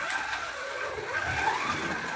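A Fly Porsche 917 LH slot car laps the track, giving a continuous buzzing motor whine with faint tire hiss that rises and falls slightly as it circles, steady and moderately loud with no talk.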